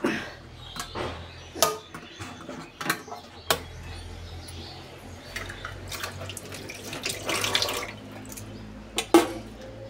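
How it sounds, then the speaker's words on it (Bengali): Water runs and splashes as it is poured into a bottle to make up a child's medicine, with intermittent knocks and clatters, a gurgling stretch near the end, and steady close household ambience. "এবার ওর বোতলে আমি জলটা ভরে দেবো।"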